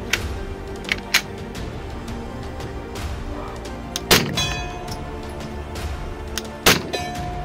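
A 9mm Glock pistol fitted with an A-TEC sound suppressor fires several muffled shots, sharp close cracks spaced a couple of seconds apart with metallic clanks ringing after some, over a steady outdoor background without speech.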